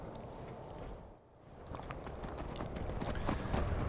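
Horse hooves clip-clop steadily in the video game Skyrim, a close, regular walking rhythm that dips briefly and then grows a little louder, with no talking over it.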